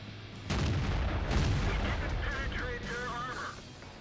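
Artillery and gunfire in the tank battle game World of Tanks, with a sudden loud boom followed by sustained rumbling fire and crackle, while someone talks over it throughout.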